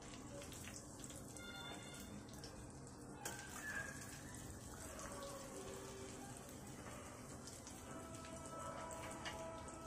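Eggplant slices fry in oil with a steady, soft, dense crackle and sizzle, like light rain, and occasional faint clinks of a utensil.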